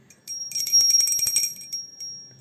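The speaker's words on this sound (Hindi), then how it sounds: "तो घंटी बजा लेंगे सबसे पहले हम, और आरती कर लेंगे।" A small hand bell rung at home before aarti worship for Laddu Gopal and Radha Rani, sounding as a bright sustained ringing with rapid repeated strikes for about a second, close and fairly loud, then fading out.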